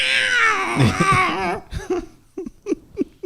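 A person imitates a cat's meow with a drawn-out whining cry, then follows with several short, rhythmic meow-like squeaks, close and fairly loud, with some laughter mixed in.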